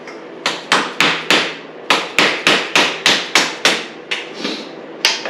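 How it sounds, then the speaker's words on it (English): A mallet strikes a stuck part on a 2022 Honda CRF450R engine during teardown, about a dozen sharp, close, ringing blows in a fairly steady rhythm with brief pauses, and no voices. "we can tap it with our mallet real quick"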